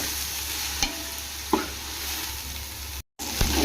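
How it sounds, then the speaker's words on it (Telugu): Four tablespoons of ginger garlic paste fry in a pan for chicken pulao. The sizzle is steady and close, broken by a few sharp stirring scrapes and one brief dropout. "ఇది కూడా బాగా పచ్చి వాసన పోయే వరకు ఫ్రై చేసుకోవాలండి"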